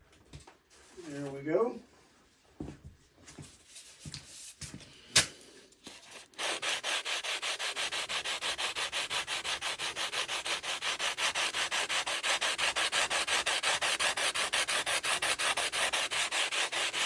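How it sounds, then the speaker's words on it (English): A sanding block rubbed on a surface: after a few soft knocks and a short voice, a steady rhythmic rasping starts and runs in fast, even strokes, close and continuous to the end. "Switch sanding blocks here a second."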